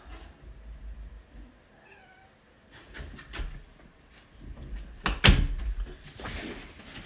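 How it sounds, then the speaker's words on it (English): A house cat meows as it is let outside, a few short cries early on followed by door clicks, a sharp bang of the door and rustling, fairly close in a quiet room. "while I let our cat out"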